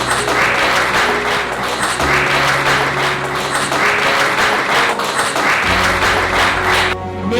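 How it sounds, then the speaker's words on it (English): Conference audience applauding athletes, a dense, loud, sustained wash of many hands clapping that continues steadily, cutting off abruptly at the very end. "So please join me again to applaud their remarkable achievements."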